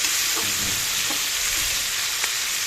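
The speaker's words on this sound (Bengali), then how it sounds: "চিংড়ি মাছকে একটু নরম করে ভাজবো" Shrimp frying in a pan with oil give off a steady, close hiss of sizzling, broken by a few soft stirring knocks, with no voices.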